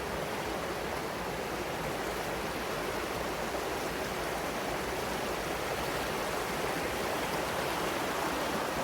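A forest river rushes in a steady, even wash of flowing water, close and continuous with no voices over it.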